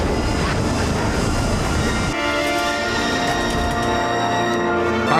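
A train in The Matrix Revolutions, heard as a loud, steady rumble of rolling stock. Partway through it shifts into a tonal, humming ride with a ringing metallic texture and occasional clatter. No voices.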